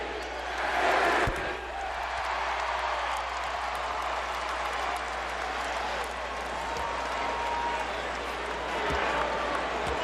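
A basketball arena crowd applauds and cheers steadily for Kobe Bryant's 81-point game as the Lakers host the Toronto Raptors, a dense roar of clapping with a few sharp thuds and swells.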